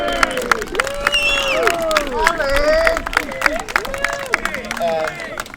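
Spectators at the final of a Women's Confederations Cup World Qualifier make noise with overlapping shouts, whoops and scattered clapping. Voices rise and fall in a lively, continuous crowd din.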